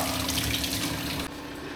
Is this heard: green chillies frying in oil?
no